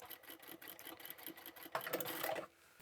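A sewing machine stitches upholstery fabric for a boxy bag: a rapid rhythmic needle chatter runs steadily, then speeds into a louder burst before stopping short, close up, with no voice.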